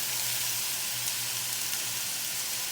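Frozen peas, carrot and corn sizzle in a pan with Spam fried rice and cooked egg, a steady close hiss of frying oil that stays even and unbroken throughout.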